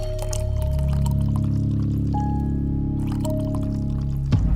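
A drink is poured in the bartending video game The Red Strings Club: a continuous liquid pour over steady tonal game music, ending in a sharp clink, with no talking.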